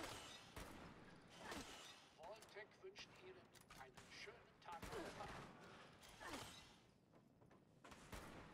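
Bursts of gunfire in the video game Fallout 76, with several sharp shots and rapid volleys scattered irregularly through the clip while a player talks over them in German.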